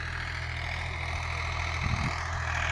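Tractor engine chugging steadily while ploughing and turning over a field, a continuous low diesel drone with a slight rise in grumble near the end, heard alone without talk.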